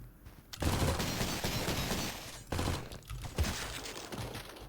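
Rapid bursts of gunfire from cultists shooting one another in the video game Cultic, dense and sustained across the clip with brief lulls, loud and close with no talk.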